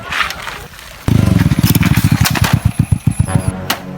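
A motorcycle engine kicks into life with a sudden loud start, then chugs in a rapid, uneven rhythm of close, punchy firing pulses that sputter and slow toward the end.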